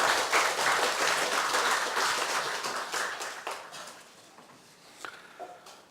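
Congregation clapping during a Sunday morning church service, a dense, sustained round of applause that gradually thins and fades toward the end.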